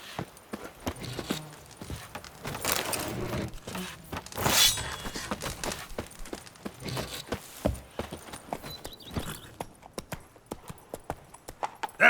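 Hooves of Roach, the horse in The Witcher 3, galloping and clip-clopping in a steady rapid rhythm, moderately loud and close, with game ambience and brief noises layered over the hoofbeats.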